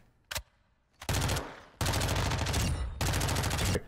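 SMG gunfire in the video game Modern Warfare 2, a single shot and then several rapid full-auto bursts separated by short pauses, loud and close with no talk.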